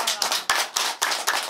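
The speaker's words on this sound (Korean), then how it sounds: "박수 부탁드립니다" Brief clapping from a small audience after a poet's appearance on a speech program, a few dense bursts of hand claps with short gaps, fairly close and without talk.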